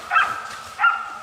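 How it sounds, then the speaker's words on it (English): Hunting hounds track wild boar in a forest, giving two clear, close barks about half a second apart. "The barking of the hounds signaled that the target was getting close."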